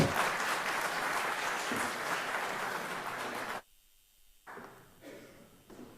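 Audience applause at a talk on innovative farming technology, greeting the founder of Çiftçi Koçu as he takes the stage. Dense, steady clapping lasts about three and a half seconds, then cuts off abruptly into near silence.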